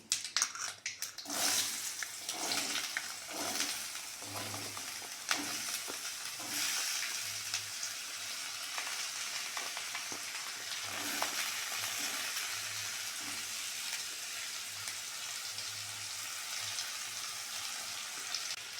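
Chopped potatoes hit hot oil in a frying pan and are stirred into semolina poha. A continuous soft sizzle is broken by scraping stir strokes, close and fairly quiet, with no talk.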